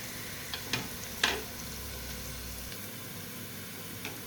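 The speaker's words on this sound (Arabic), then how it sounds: "هنا بس بصفر في الطاسه البصله مع الثوم مع الفلفل" Onion, garlic and pepper sizzle steadily in a frying pan, a soft continuous hiss broken by a few sharp clinks and scrapes of stirring near the start.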